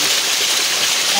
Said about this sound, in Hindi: ये ऊपर से आबशार आ रही है।